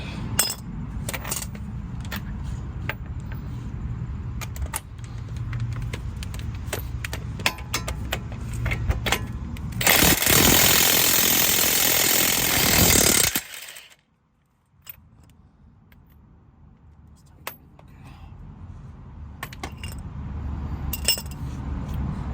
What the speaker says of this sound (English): See if I can use my impact.